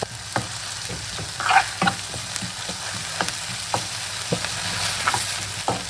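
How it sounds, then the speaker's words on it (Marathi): Cumin, mustard seeds, garlic and green chutney sizzle and crackle steadily in hot oil, with scattered sharp pops and a little stirring, close up and fairly loud, no talking. "त्याच्यामध्ये टाकायचं आहे आपल्याला जिरे, नंतर मोहरी टाकायची, नंतर लसूण आणि हिरवी चटणी"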